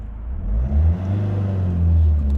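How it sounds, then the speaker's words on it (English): A 2014 Ford Mondeo engine runs with a steady, close, low rumbling hum that swells slightly now and then. No one speaks. "this is what the engine's sounding like"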